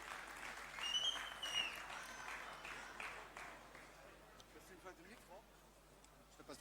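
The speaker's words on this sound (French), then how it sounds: "Applaudissements pour Dax." Faint applause and cheering from a crowd at a live gaming showmatch, with an announcer's voice over it, fading out into quieter room noise.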